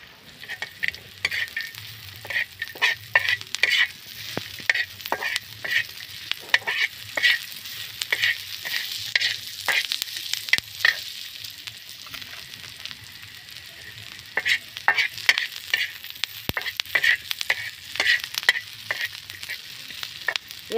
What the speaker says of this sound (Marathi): आता हा मसाला आपण तव्यामध्ये भाजून घ्यायचा आहे